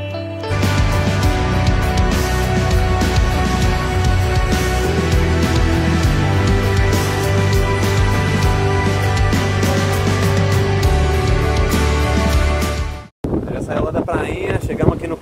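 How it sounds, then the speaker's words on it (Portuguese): Strong coastal wind on a rocky headland buffets the microphone, a loud continuous roaring rumble that cuts out abruptly near the end. "Nossa, muito vento. Nem sei se o áudio tá muito bom aí."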